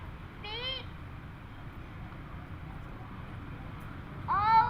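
Two cat meows, one early and a louder one at the end, separated by steady low background noise during a children's spelling game.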